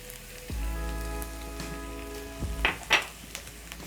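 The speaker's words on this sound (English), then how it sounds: "So to my pan, I'm going to add in 1 teaspoon of coriander and a teaspoon of paprika." Coriander and paprika hit a hot pan for a pork stew, giving a soft steady sizzle of frying spices with a couple of brief louder crackles and stirring sounds toward the end.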